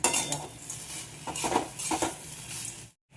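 Peanuts and dried chillies are mixed in a bowl with a spoon, making clinking scrapes and rattles of metal against the dish. The sound comes close and uneven and ends in a brief silence.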